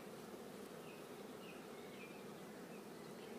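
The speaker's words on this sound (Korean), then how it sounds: "꿀벌들이 지금 쪽사리 꿀을 따려고 왔다 갔다 하고 앉아서 쉬는 것도 있고" Honeybees forage around a flowering jjoksari shrub beside a beehive outdoors, giving a soft, continuous buzzing hum with occasional louder passes of individual bees, faint and steady with no talk.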